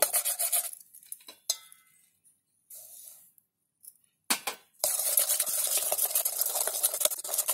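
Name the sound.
stirring eggless sponge cake batter with semolina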